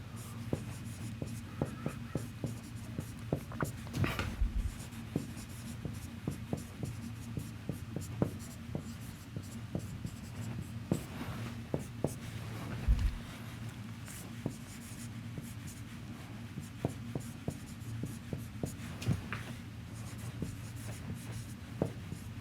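Chalk or pen writing out a differential equation during a math lecture, a steady, faint scratching and tapping of strokes lasting over twenty seconds under a low room hum, with no talking.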